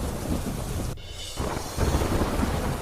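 Heavy downpour in Manavadar, Junagadh, a steady broadband roar of rain with a brief dip in intensity partway through, then resuming loud and continuous with no voices.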